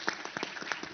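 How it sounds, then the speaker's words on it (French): Brief, sparse clapping from a conference audience at a plenary session, a handful of distinct claps close together over under a second. "on peut vraiment vous applaudir pour ça"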